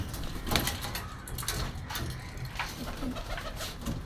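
A male pigeon coos softly among a loft of pigeons, low murmuring calls heard faintly under steady background noise and some rustling.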